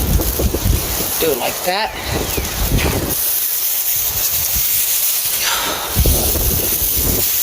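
Cold wind buffets the microphone outdoors in heavy, uneven gusts, with a person speaking briefly under the rushing noise.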